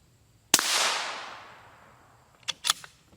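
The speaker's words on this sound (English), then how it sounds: "Our final shot of M193." A rifle with a 22-inch barrel fires one round of M193 ammunition: a single sharp, loud crack that rings off into a fading echo, followed by a few quieter clicks and clatters.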